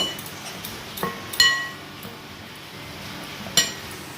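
Jalebi batter ingredients mixed in a bowl, heard as a few crisp clinks of a utensil against the bowl, two louder ones standing out among softer taps in a quiet room; no speech.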